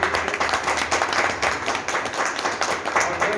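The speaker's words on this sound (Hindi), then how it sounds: "जोरदार ताली के बीच में" An audience at a marketing seminar gives dense, steady applause, many hands clapping together at close range throughout, with no voice on top.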